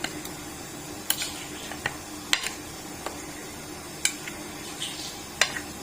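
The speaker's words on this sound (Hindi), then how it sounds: "अब 1 चम्मच हम डाल देंगे येलो मस्टर्ड पेस्ट इस तरह से। अब मिक्स करेंगे अच्छे से।" A spoon stirs yellow mustard paste into chicken in a pan, giving sharp intermittent clinks and scrapes every second or so over a faint, low sizzle. No one speaks.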